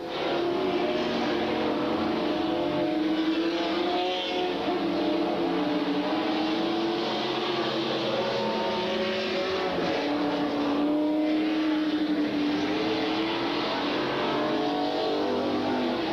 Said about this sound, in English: Al Brewer in the 91 continues to walk away from the rest of the field